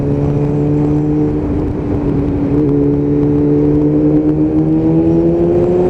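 A Kawasaki ZX7R motorcycle engine pulling hard on a dry road, a loud steady drone with rising tonal pitch and a brief dip partway, no voices.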